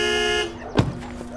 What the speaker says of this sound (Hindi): आप तेज हॉर्न बजाना।